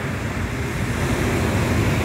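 Ocean surf crashes and roars without a break, loud and close, mixed with heavy wind buffeting the microphone and no voices.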